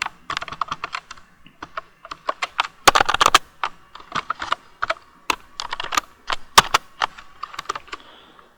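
Rapid, irregular typing on a computer keyboard entering commands at a Windows command prompt: crisp close key clicks in bursts with short pauses, including a quick flurry near the middle, with no talking.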